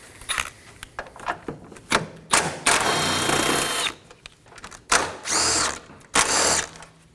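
Ratchet and tool work loosening 10mm bolts on a 2011 Dodge Durango 5.7L V8 crossbar during radiator replacement, with repeated short bursts of rapid clicking and whirring separated by pauses, close and fairly loud.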